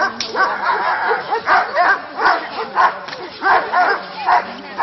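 Several dogs bark loudly and repeatedly in steady bursts during a guard-dog protection demonstration in Petőfibánya, the barks close and overlapping in a regular rhythm.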